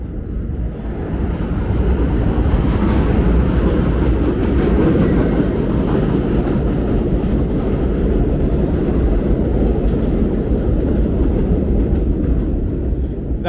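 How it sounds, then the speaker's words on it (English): A New York subway D line work train rumbles loudly overhead on an elevated track in Brooklyn, with a steady roar and rhythmic rattling of wheels, building quickly and sustained throughout, no talking. "This is the home of the D train, which is about to pass over us."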